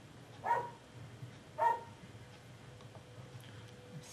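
Dogs bark in a yard, two short barks about a second apart at moderate distance over a quiet background, with no talking.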